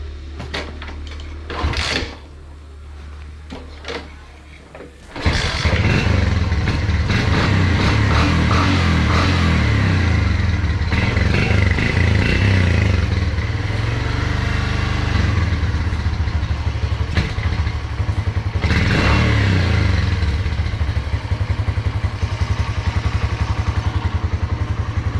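Bajaj CT100 motorcycle fitted with a quick throttle: a few clunks and a brief quiet stretch, then the single-cylinder engine starts and runs loud and close, its steady idle rising and falling as the throttle is blipped, with no talk.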